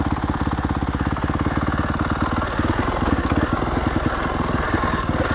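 A 15-year-old Honda CRF450X carbureted four-stroke dirt bike engine thumps close and loud in a rapid, even beat, its low pulses slightly uneven as the throttle shifts.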